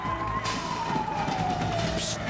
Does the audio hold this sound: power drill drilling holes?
no